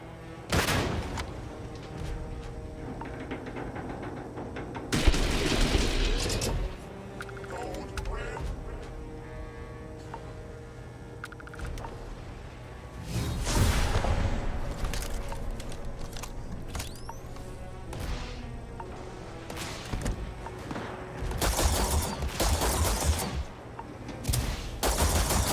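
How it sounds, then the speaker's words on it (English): Turrets fire in Starfield, loud rattling bursts of automatic gunfire arriving in several spaced clusters over a low mechanical hum, with a voice talking in between. "A lot of turrets."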